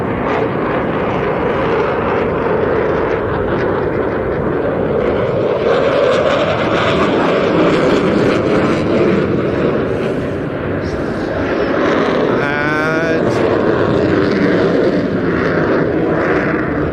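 A display jet roars through loops at an air show with its afterburner relighting, a loud, sustained rumbling blast that swells and shifts in pitch, with a commentator talking over it.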